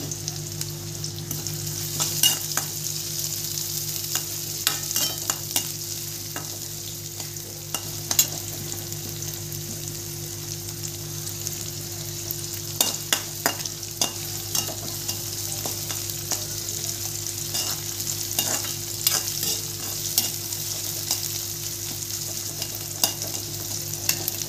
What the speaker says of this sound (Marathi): आता कांदा टाकते. कढीपत्ता पण टाकते त्याच्यासोबत.